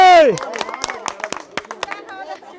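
Scattered claps from an audience at a rural village game event, a quick run of separate hand slaps over excited voices and chatter.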